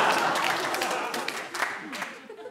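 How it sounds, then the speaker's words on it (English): A comedy club audience breaks into applause and scattered clapping for a stand-up set, a dense patter of hands that gradually thins out, with voices mixed in underneath. "See how she's clapping?"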